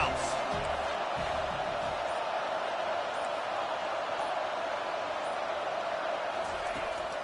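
Home stadium crowd roars at an Oregon versus Washington football game, a dense, steady wash of cheering that holds at full level from start to finish, while a broadcaster talks over it.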